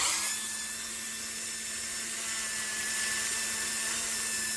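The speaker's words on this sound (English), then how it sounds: "I'm on about speed 15 on my Dremel." A Dremel rotary tool running at speed 15 trims excess resin from the edges of a piece, giving a steady, high-pitched whine that holds close and constant throughout.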